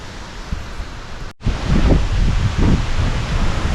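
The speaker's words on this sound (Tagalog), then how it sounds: "Grabe, ang lakas ng hangin. Parang anong may bagyo." Storm-force wind blows outdoors in Finland, a loud rushing roar with heavy low buffeting gusts against the microphone, broken by a brief dropout before the gusts return stronger.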